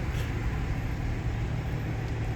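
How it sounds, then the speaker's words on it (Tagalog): Road traffic heard from inside or beside a vehicle, a continuous low engine and tyre rumble with steady road noise, no distinct passes, moderately loud throughout. "Traffic."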